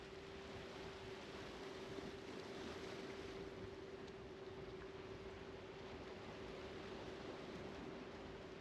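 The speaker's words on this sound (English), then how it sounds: "watch the waves crash onto the surrounding cliffs" Ocean surf rolling against the rocky cliffs of a Grand Cayman beach, a steady distant wash of waves with wind noise and a constant low hum, no voices.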